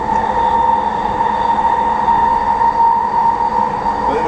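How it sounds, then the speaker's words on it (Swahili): An electric train running under overhead power lines in Vancouver, a steady close rumble with a sustained tonal electric whine throughout, loud and continuous with no talk. "Hii treni kuna ina umeme juu."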